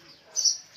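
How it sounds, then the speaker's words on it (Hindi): A house sparrow gives a single brief, high chirp at moderate distance, standing out against a quiet outdoor background in a hillside village during a Phool Dei doorstep worship. "गौरैया भी चिल्ला रही है हमारी"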